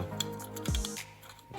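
GraviTrax carousel plastic pieces clip together, giving a few faint, close plastic snaps and clicks with a short scrape in the middle, with no voices.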